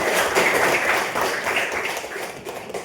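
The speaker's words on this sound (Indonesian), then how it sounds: "Tepuk tangan untuk anak-anak ibu supaya bersemangat" A classroom of children clapping for classmates, a dense, scattered patter of many small hands that stays steady for about three seconds before thinning slightly toward the end.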